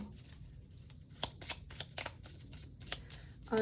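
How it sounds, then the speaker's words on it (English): A tarot deck being shuffled and a timing card drawn during a reading, with steady soft riffling and a few sharper card slaps near and fairly quiet, no talk. "pull a timing card"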